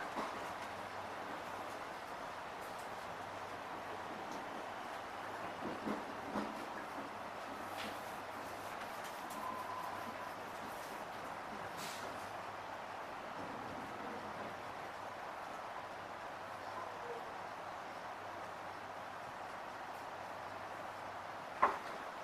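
A low, steady rumble inside a Melbourne Metro train as it pulls into Croxton station, quiet and continuous, with faint rattles and a single sharp knock near the end.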